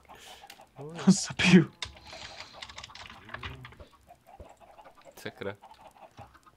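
Minecraft chickens cluck in short bursts over background game sounds and keyboard clicks, while someone talks in Czech throughout.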